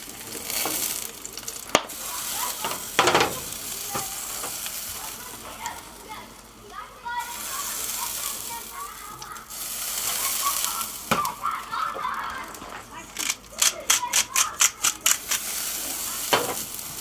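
Veal loin and mini potatoes sizzle in olive oil in a pan on a barbecue, a steady close frying hiss broken by stirring clatter, a lid being handled and a run of quick taps near the end.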